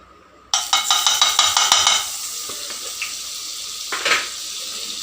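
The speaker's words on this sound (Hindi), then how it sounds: "तो चलो अब बटर को मेल्ट होने देते हैं" Butter sizzles as it melts in a hot, oiled pan, a loud crackling hiss with a burst of stirring scrapes at first, then settling into a steady, quieter frying hiss with a brief clatter near the end.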